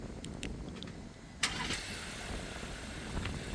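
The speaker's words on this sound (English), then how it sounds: "And now your Taos is remotely started." A 2022–2026 Volkswagen Taos engine remote-starting from the key fob: a sudden crank and catch about a third of the way in, then a steady nearby idle hum that continues to the end.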